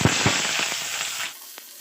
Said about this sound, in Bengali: এবার পেঁয়াজ আর কাঁচা লঙ্কা একসাথে দিয়ে দিচ্ছি।